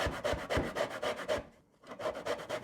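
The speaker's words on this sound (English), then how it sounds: "what I'm gonna do is zest these to keep the zest in the freezer for baking" Zesting tangelos on a grater, a quick series of close, dry rasping strokes in an even rhythm, broken by a short pause before the scraping resumes.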